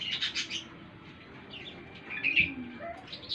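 Caged emprit kaji and Japanese munia finches chirp nearby in short, high, thin bursts, with a few clustered twitters and a slightly louder call near the end over faint background noise.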